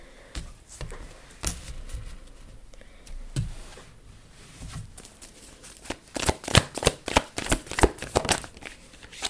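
Tarot cards handled and then shuffled, with soft scattered taps and handling at first, building into a fast run of crisp, snapping riffles in the final seconds, close and clear with no voices.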